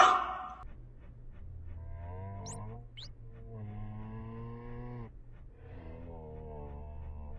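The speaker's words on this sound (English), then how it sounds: "this is like cow noises from the vents" Low, drawn-out cow-like moos come from the vents in the video game Crawlspace 2, several separate harmonic calls, fairly faint, each following a short burst of noise at the start.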